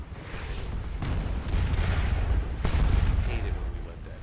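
Musket gunfire aimed at troops in the Napoleonic battle game Scourge of War: Waterloo, rolling volleys and dull booms building in waves, with a sharp crack of fire about a second in and another just before three seconds.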